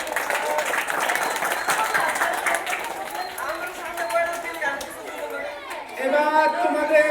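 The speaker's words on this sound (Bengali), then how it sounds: "আমি অত্যন্ত খুশি হয়ে জোরে একটা করতালি হবে।" Applause from cub scouts at a carnival gathering, brisk clapping mixed with crowd chatter that fades into voices and children talking.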